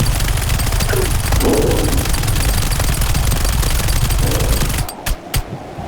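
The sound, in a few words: gunshots from a one-shot kill gun mod in 7 Days to Die video game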